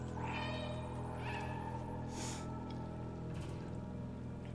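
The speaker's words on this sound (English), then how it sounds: "you can kind of hear some distant meows because it's coming down from the pipe" Cat meows in the video game Stray, drifting up from a pipe below: several distant, rising-and-falling calls spread across a steady ambient bed, faint and echoey rather than close.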